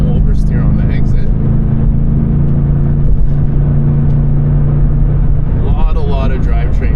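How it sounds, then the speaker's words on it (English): A track-prepared Subaru BRZ TS with stiffer transmission mounts and big Brembo brakes drives hard on a race track, a loud continuous engine and drivetrain drone from inside the car, with someone talking over it. "A lot of drivetrain noise from the stiffer transmission mounts"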